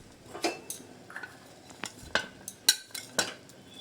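Fried paneer pieces are tipped into a cooking pan for a ridge gourd and paneer dish, heard as a scattered run of light metallic clinks and scrapes of a spoon against the pan, close and fairly quiet, with no speech.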